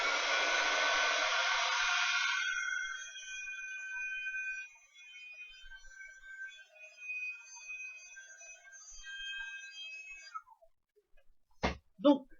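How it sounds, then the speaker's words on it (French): A heat gun blasts hot air over wet paint with a loud close whoosh for a couple of seconds, then winds down into fading high tones, with a couple of sharp clicks at the end. "J'ai pas séché ma peinture, mais bon, je peux donner un petit coup de gun"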